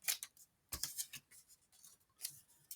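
Scissors snipping through paper, several quick faint crisp cuts in irregular bursts, close by and quiet.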